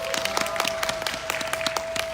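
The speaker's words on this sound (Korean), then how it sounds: "다시 한번 큰 박수 부탁드립니다" Scattered applause from an outdoor disability-rights rally crowd in Korea, a brief patter of overlapping hand claps at moderate distance, steady and unaccompanied by speech, with a faint continuous tone underneath.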